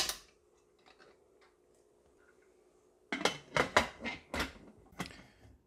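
Mugwort and glutinous rice wrapped in a cloth bundle are set into a pressure cooker: faint handling rustle at first, then a run of sharp, close clatters and knocks of pot and lid, with no talk.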